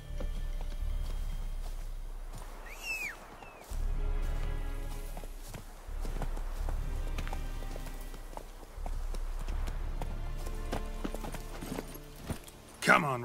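Roach, the horse in The Witcher 3, trots with a steady, close clip-clop of hooves that pauses briefly and resumes several times, while voices murmur in the background.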